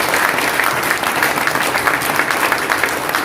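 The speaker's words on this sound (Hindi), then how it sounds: "मैं चाहूंगा गुरुदेव के लिए तालियां, जोरदार तालियां हमारे टीसी सर" An indoor audience at a business meeting applauds steadily, a dense wash of clapping hands throughout.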